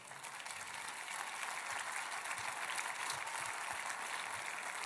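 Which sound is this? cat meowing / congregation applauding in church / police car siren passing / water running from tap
congregation applauding in church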